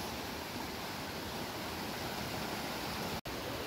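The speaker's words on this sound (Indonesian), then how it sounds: "akhirnya kita sampai di sungai. Sungainya jernih." Steady broadband rush of a clear river flowing, continuous and fairly loud throughout with no talking, broken only by a momentary dropout near the end.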